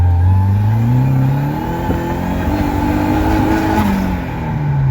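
An Opel car with its boost pressure raised accelerates hard in second gear, the engine note climbing loud and steady through the revs with a brief dip as it pulls, close up with no talking.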